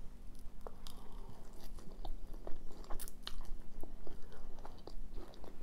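Chilli cheese fries chewed close to the mic, with soft wet bites and mouth clicks in an irregular rhythm and faint crunches, quiet and alone.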